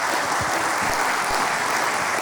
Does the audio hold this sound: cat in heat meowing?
no